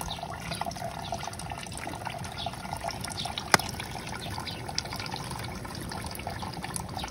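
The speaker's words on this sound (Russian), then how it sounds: "Решил долить воды, хотя может еще и рановато." Water being poured through a small funnel into a 13-frame steam wax melter at an apiary, a steady close trickling gush with one sharp click partway through.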